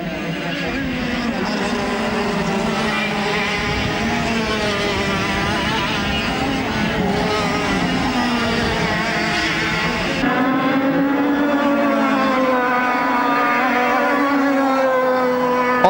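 Formula Super A racing karts in a European Championship final at Mariembourg, Belgium, their high-revving two-stroke engines whining and shifting pitch as several pass by, loud and continuous, with a commentator talking over them.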